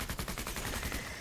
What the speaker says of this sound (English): Just gonna shoot them here.